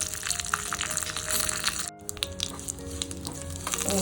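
Curry leaves and spices crackle and sizzle loudly in hot oil, a dense continuous fizz with sharp pops throughout, briefly dropping out before resuming.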